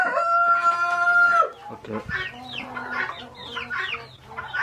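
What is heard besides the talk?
chickens clucking and rooster crowing on a farm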